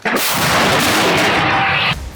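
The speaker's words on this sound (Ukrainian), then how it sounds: "Постріл!" A single loud gunshot booms close by, its blast lingering as a rumbling echo for about two seconds before cutting off.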